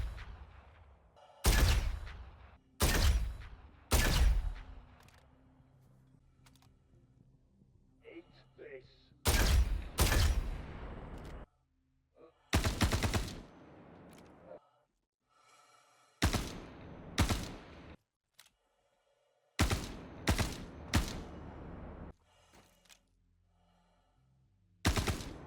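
Sniper rifle shots fired at Ninetails in Star Citizen: about a dozen sharp, loud cracks come singly and in quick pairs at irregular intervals, with quiet stretches and faint background sound between them.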